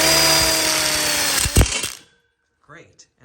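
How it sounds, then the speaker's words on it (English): A power drill whines loudly up close as it drives a screw into a ConnecTubes outdoor kitchen frame, ending with a thunk before it stops, followed by someone speaking. "now we're gonna go ahead and lock this one side in with a screw through the one-way"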